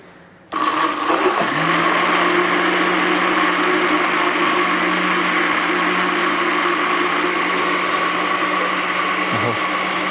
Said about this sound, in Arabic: مش عارف الخلاط هيشتغل كده ولا الحاجات كتير